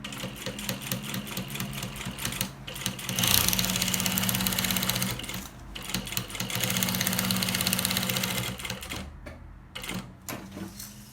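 A sewing machine stitches a pocket seam for a baby's outing bag, running in steady mechanical bursts with brief pauses between runs, close and clear with no talking.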